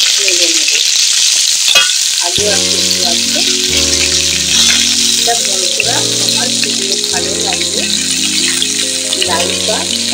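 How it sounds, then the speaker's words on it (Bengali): Potatoes sizzle and fry in hot oil left over from frying bitter gourd, a loud steady crackle close up, with background music playing over it. "করলা ভাজার তেলে আমি দিয়ে দেবো আলু।"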